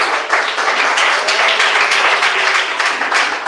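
A church congregation claps hands together during a lively Pentecostal service, producing a loud, dense, steady wash of applause that holds for the whole stretch with no voices on top.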